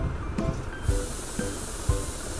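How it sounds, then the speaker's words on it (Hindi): Water poured from a jug into a kadhi mixture for kadhi pakodi, a steady splashing hiss that starts partway through and continues, with a few soft clinks and knocks near the mic. "अब इसमें 1 जग के करीब हम पानी ऐड कर रहे हैं"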